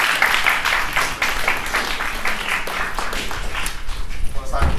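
An audience at a talk in Onești claps in a steady patter of scattered hand claps, fairly close, with a voice murmuring underneath.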